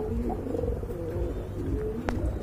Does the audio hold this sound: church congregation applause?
no